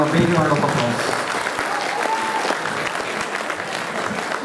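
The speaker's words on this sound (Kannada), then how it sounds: "ಆದಿತ್ಯ ಮತ್ತು ಶಾಂಗೆ ಜೋರಾದ ಚಪ್ಪಾಳೆ ಮಾಡಬೇಕು" Enthusiastic applause from an audience at a Kannada Rajyotsava event in Hamburg after a mythological drama, a thick clapping wash that starts loud and tapers slightly, with a few voices mixed in.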